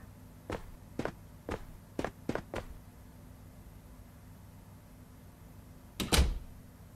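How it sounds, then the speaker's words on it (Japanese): A door shuts with a sharp, loud thud near the end, preceded by several soft footsteps in a quiet room. "ドアを閉める音。"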